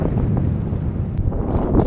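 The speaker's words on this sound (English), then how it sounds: "So the wind, you can probably hear it." Strong wind at a beach during a fishing outing, roaring loudly across the microphone in a continuous buffeting rush.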